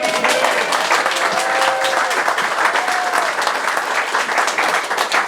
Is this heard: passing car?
no